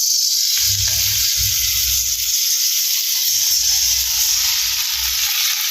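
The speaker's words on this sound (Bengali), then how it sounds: "এই যে এখন এই সয়াবিনের তরকারিটা একটু গরম করে নেবো কড়াইতে দিয়ে।" Soybean curry reheating in a wok gives a steady, loud sizzle with a constant bright hiss, joined by low clattering bursts of stirring throughout.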